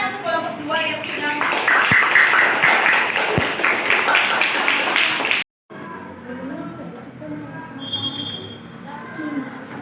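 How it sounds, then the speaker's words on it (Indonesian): Classroom applause for a student group at an elementary school, dense clapping from many hands for about five seconds, then stopping abruptly as a teacher's voice and children's chatter carry on. "beri tepuk tangan untuk kelompok 2"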